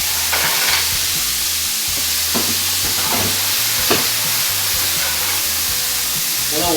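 Clams sizzle steadily in a frying pan with garlic, a continuous hiss of hot oil broken by a few sharp crackles and the scrape of stirring, with no talking.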